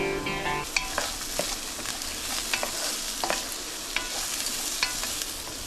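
Sliced onions frying in oil with a little turmeric, a continuous sizzle broken by repeated sharp clicks of a spatula stirring against the pan, close and alone.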